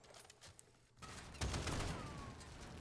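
Rapid gunfire from a vehicle's rear-mounted gun in Call of Duty DMZ, a sustained rattling burst that kicks in after a quieter stretch and keeps going, fairly loud and steady.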